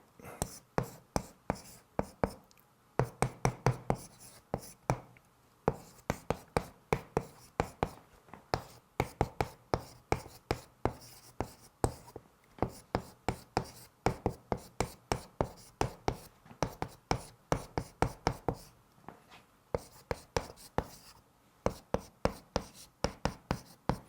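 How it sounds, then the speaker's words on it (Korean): A marker or chalk scratches and taps on a board in a quiet lecture room, many quick close strokes in irregular bursts with brief pauses between words, no talking. "제가 한번 주역이 말하는 인생에서 가장 중요한 것 세 가지를 여기 한번 써보겠습니다"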